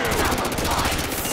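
Rapid gunfire rattles loudly in a Custom Zombies video game as zombies are shot, a dense burst of repeated shots filling the short moment.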